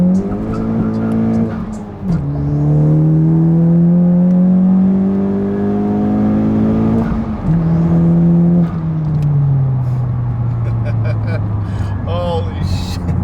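A 10th-generation Honda Civic Si accelerates hard in second gear, its engine note climbing loudly and steadily, then dropping with a shift and climbing again, with occasional speech over the roar.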